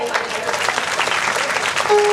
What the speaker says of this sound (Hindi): जोरदार तालियां बजाएंगे